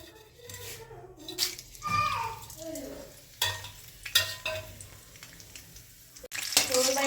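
Whole garam masala of cinnamon, green cardamom, black pepper and bay leaf fries in a wok, with intermittent scraping and stirring clatter over a light sizzle and a few sharper knocks.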